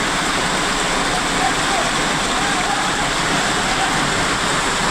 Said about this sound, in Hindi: जोरदार बारिश और बारिश के बाद देखिए सड़कों पर जो ये आप पानी देख रहे हैं